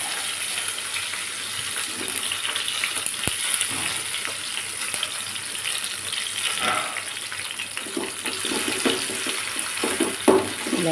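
Onions and tomatoes frying in hot oil in a pan while making chicken fry, a steady close sizzle with scattered crackles and a few clinks of stirring, no talk.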